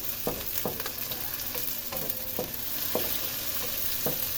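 Tomatoes dropped into a hot frying pan, a continuous loud sizzle with repeated sharp clinks and scrapes of a spatula stirring at a steady rhythm.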